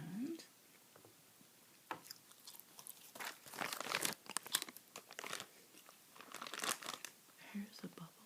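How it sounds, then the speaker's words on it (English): Close, soft-spoken ASMR chewing of Original Bazooka bubble gum: wet, crackly mouth sounds and crinkles in irregular bursts, fairly quiet and intimate, with no voice over them. "here's the bubble gum I'm chewing, by the way. Original Bazooka bubble gum."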